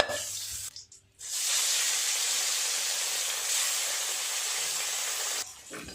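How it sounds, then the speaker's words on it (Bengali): Bata fish sizzles in hot oil with a steady, loud hiss that drops away briefly near the start, then continues evenly. "আর দু পিস মাছ আছে একইভাবে ভেজে নেব"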